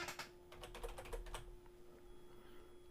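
Someone types on a computer keyboard in a quick burst of key clicks that then stops, leaving quiet room tone. The sound is faint and close.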